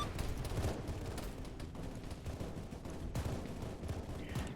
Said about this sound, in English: Hearing some heavy calibers firing.